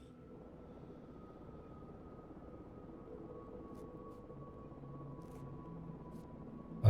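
A helicopter in a space-habitat survival game hums steadily with a low, droning rotor and engine tone, a faint whine sitting above it, growing gradually louder as it draws nearer, heard alone with no talking.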